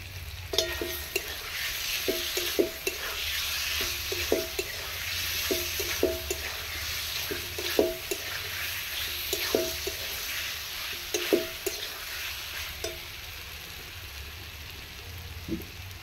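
Boiled potatoes coated in spices and black pepper sauté in a pan, a low steady sizzle punctuated by rhythmic spatula scrapes and taps at regular intervals, close and unaccompanied by speech.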